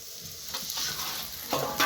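Eggplant (brinjal) slices frying in oil in a pan with a little salt. The sizzle runs steady and close, broken by a few louder scraping stirs near the end.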